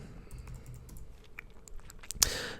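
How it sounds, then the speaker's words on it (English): Fast clicking keystrokes on a computer keyboard, with one sharper, louder key strike near the end; quiet and close, with no talking. "And then we want to just type in JEDI."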